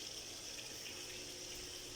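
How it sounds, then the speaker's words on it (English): Tap water runs in a steady continuous stream while outdoor chairs are scrubbed clean, a close, even hiss with no pauses and no voices. "I've been washing them with water"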